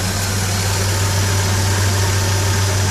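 A neglected 1997 Hyundai Coupe with a failing head gasket idles steadily, its low engine hum and slight vibration continuous and close throughout, with no talking.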